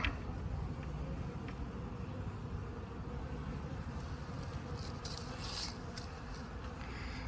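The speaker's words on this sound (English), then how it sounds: "Not as many bees in here." A steady, dense buzzing of many honey bees in a hive box hums continuously at a low level, with a few faint higher rustles near the end.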